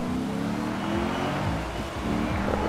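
Car engine in Forza Horizon 4 revving and accelerating at the start of a race, a steady loud motor drone with rising and falling gear-shift sweeps under game music.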